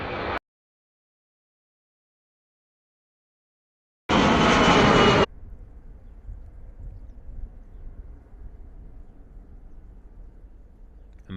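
An Aer Lingus ATR 72-600 turboprop passes overhead at an airport, a loud burst of engine noise that cuts off abruptly and leaves a low, steady rumble behind.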